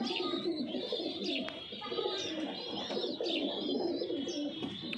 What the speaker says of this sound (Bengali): এটাও খুব সুন্দর পায়রা একটা